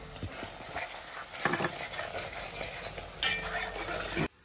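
A spoon stirs and scrapes spices sautéing with salt, turmeric and chili powder in a pan. The scraping is continuous and close, with a soft sizzle underneath and a sharp clink near the end.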